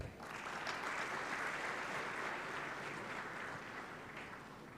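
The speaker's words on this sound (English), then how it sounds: "A big round of applause again, ladies and gentlemen." An audience at a national higher education strategy launch claps in a sustained, dense round of applause that holds steady for several seconds before gently tapering.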